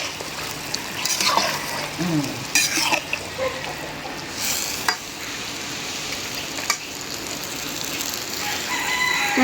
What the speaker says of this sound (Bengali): এই যে এখন নাড়া দিয়ে মাছগুলি মিলাই দিচ্ছি